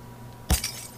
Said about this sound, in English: Broken shards of glass.